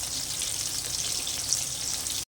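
Fish pieces fry in hot oil for a bitter gourd fish curry, giving a dense, even crackling sizzle close by that runs without a break and then cuts off.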